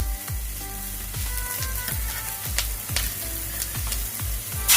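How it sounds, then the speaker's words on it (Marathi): Onions and other ingredients for manchurian sizzle steadily in a hot pan, a loud continuous frying hiss broken by regular scraping strokes of stirring, close and with no voices. "आपण जे टाकलेले साहित्य त्यामध्ये मस्त पैकी फ्राय होत आहे"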